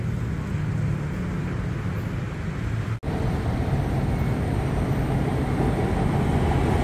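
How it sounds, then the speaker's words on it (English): A BTS Skytrain passing near Siam station in Bangkok at night, a broad, steady rumble of the elevated train and surrounding city traffic, briefly dipping at one point before swelling slightly louder toward the end. "these trains are always packed up here at Siam or Central Station"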